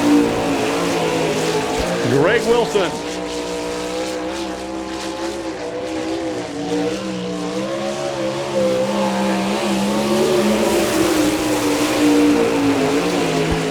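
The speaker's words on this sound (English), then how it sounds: "a Ford-powered race car" Ford-powered sprint car with a Maxim chassis and Hampshire racing engine roars steadily on a dirt oval at an All Star Circuit of Champions race in Chillicothe, Ohio, engine pitch rising and falling over a loud continuous drone, with an announcer talking over it.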